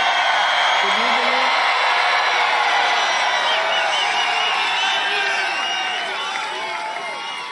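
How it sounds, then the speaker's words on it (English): A huge political rally crowd in Texas cheers and whoops continuously, a loud dense roar with scattered shouts rising above it, heard from within the crowd and easing slightly toward the end. "Do you hear that crowd back there?"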